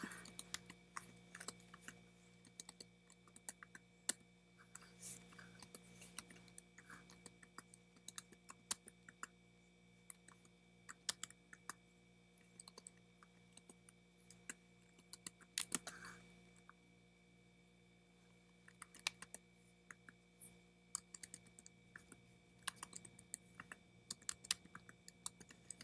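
Keys are tapped steadily on a graphing calculator while data is entered into a statistics list, a long run of quick, light, irregular clicks close to the microphone against a faint constant hum.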